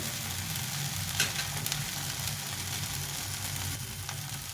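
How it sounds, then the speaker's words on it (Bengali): Spice paste fries in oil for a green rui fish curry, a continuous loud sizzling hiss with a soft bubbling undertone, close up and unbroken throughout. "মশলাটা কষা হয়ে গেছে ভালো করে"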